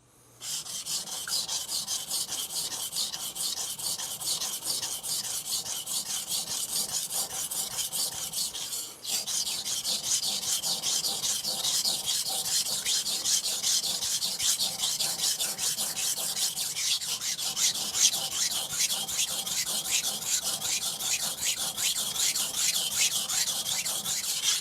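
A Japanese Aogami 2 Bunka knife being sharpened on a Shapton Glass 220 whetstone, with rhythmic, continuous back-and-forth rasping strokes up close and only a brief pause partway through.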